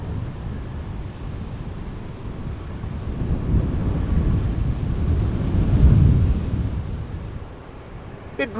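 Strong wind buffets the microphone at an outdoor plane-spotting spot by Amsterdam Schiphol Airport, a continuous low, rumbling roar that swells in gusts toward the middle and eases off near the end.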